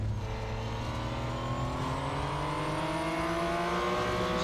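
Racing car engine in the Real Racing 3 video game, a steady loud drone with rising harmonics as the revs climb, continuous and close with no braking squeal standing out.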